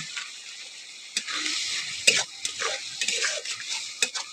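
Masala with yogurt and a spoonful of sugar is stirred and fried in a pan. A steady close sizzle runs throughout, broken by scraping and knocking strokes of the spoon against the pan, with no voice.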